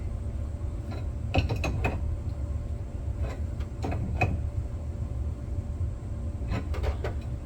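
Nuts on the line fittings of an electric hot water heater are snugged up with a wrench, with metallic clicks and ratcheting taps in short clusters over steady low background hum, near and moderately quiet.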